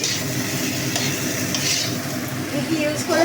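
Mutton stir-fried in a pan, with a constant close sizzle and repeated scraping and stirring of the spatula against the pan, growing a little busier toward the end.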